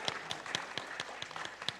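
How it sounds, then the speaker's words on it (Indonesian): Audience at a Wealth Wisdom 2023 social media seminar claps at a steady, sparse pace, with distinct hand claps recurring about four times a second, fairly quiet and alone. "tepuk tangan dong"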